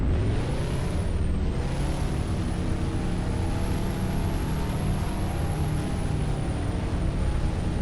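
A modded Peterbilt 351 truck in American Truck Simulator drones steadily and loudly for the whole stretch, a dense engine rumble with a distorted, harsh edge and a high whine running throughout, with no talk.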